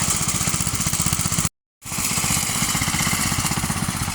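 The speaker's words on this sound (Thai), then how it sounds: "เครื่องตัดหญ้ารุ่นประยุกต์" A small gasoline grass trimmer engine buzzes loudly with a fast, even rhythm in a marian plum orchard, cut off by a brief silent gap before resuming.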